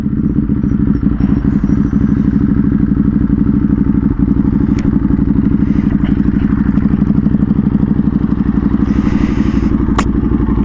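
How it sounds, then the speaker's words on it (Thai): A Ducati Hypermotard motorcycle exhaust idles steadily nearby with a rapid, throbbing burble and faint clatter, continuous and loud throughout. "เสียงท่อมันก็จะรัวๆ เนี่ย"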